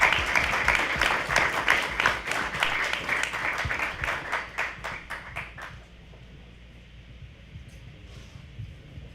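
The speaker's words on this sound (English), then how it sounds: "let's give a round of applause for our honored guest." Conference audience applause for an honored guest at an innovation event, dense clapping at full strength for about six seconds before abruptly dying away to quiet room tone.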